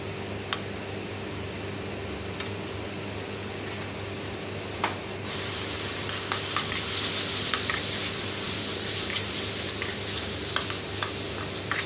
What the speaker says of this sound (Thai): นำหมูสามชั้นของเราครับ ลงไป ผัดให้เข้ากันกับเครื่องพริกแกงของเราครับ